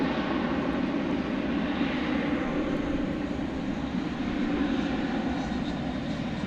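A passenger airliner arrives at DFW Airport on an evening flight from Cancun, its engines a steady, broad roar that holds at even loudness throughout, heard alone with no talk.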